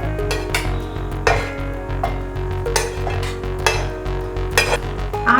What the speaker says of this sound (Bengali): এখন ব্লেন্ড করার জন্য আমি ব্লেন্ডার নিয়েছি। এর মধ্যে এবার এই ভাজা সবজিগুলো দিয়ে দিচ্ছি।